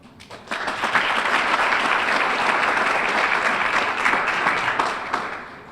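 A round of applause for the host of a university awards dinner begins sharply after a brief quiet moment, swells into dense full-room clapping, then tapers slightly toward the end.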